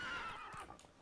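Horse neighing in The Witcher 3 video game, a single short whinny close and clear, fading out within a second.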